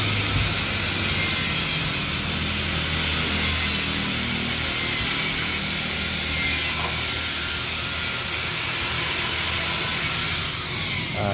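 An angle grinder cuts through a PVC wall panel during installation, a continuous loud high-pitched whine with a gritty edge that holds steady, close by, for the whole stretch.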